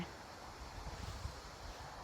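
Steady outdoor wind rushes and rumbles against the microphone during mushroom foraging in Denmark, a low, even noise with faint gusty swells and no voices.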